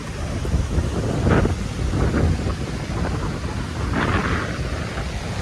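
Waves surge along a seashore under strong gusting wind that buffets the microphone, a steady loud roar with rolling swells of surf and no speech.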